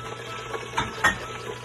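Chili is stirred into sweet and sour pickerel in a Saladmaster pan: soft, faint scraping strokes, with a couple of brief clinks over a low background hum and a light sizzle.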